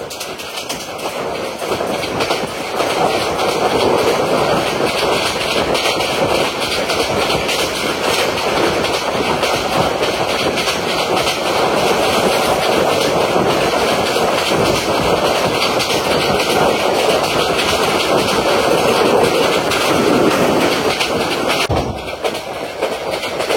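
The Mohanagar Godhuli Express passenger train runs steadily on rails between Brahmanbaria and Dhaka, heard from on board as a loud, continuous rumble with rhythmic clickety-clack from the wheels.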